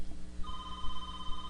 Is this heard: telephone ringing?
yes